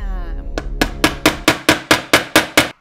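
A hammer drives a metal eyelet setter into clothing fabric: eight sharp, loud, close blows land at a steady, slightly quickening pace, each ringing briefly before the next.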